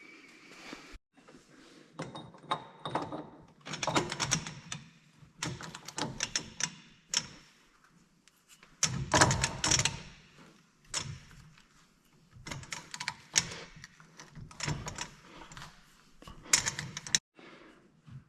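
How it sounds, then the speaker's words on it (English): Torque wrench work on a rear axle nut of a 2006 Duramax, with close, intermittent bursts of metallic clicking and clattering separated by quiet gaps. "All right, so once you torque it down, back it back off"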